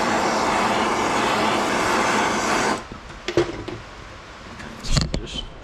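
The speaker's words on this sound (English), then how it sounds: "Heat it up with MAP gas, probably like 20 seconds" A MAP gas torch roars steadily and loudly while heating a 4th gear bearing sleeve during a front-wheel-drive transmission rebuild, then cuts off abruptly, leaving a few faint clanks and workshop knocks.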